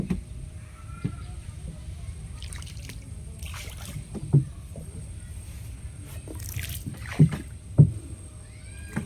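A rowing boat glides along a river with soft, sporadic oar splashes and water trickles over a quiet background, a few sharper dips standing out near the end, faint birdsong in the distance.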